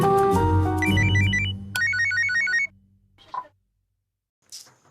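A phone rings out as a call is placed, giving a melodic electronic ringtone of bright repeating beeps for about two seconds, then cutting off into near silence broken by a couple of faint knocks.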